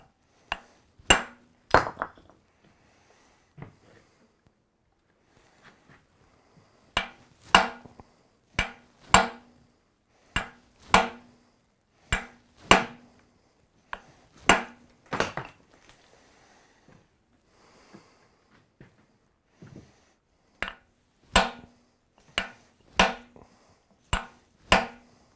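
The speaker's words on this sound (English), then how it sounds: "I've used the pitching tool, which is a broad, flat chisel, held just right, takes a while to learn, and a hammer" A hammer strikes a broad, flat pitching chisel to carve stone, giving sharp, ringing blows in irregular clusters with short pauses between groups, close and distinct.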